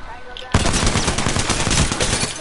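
Rapid automatic gunfire from the video game Apex Legends erupts suddenly and loudly after a brief quiet moment, then continues as a dense, sustained burst for about two seconds.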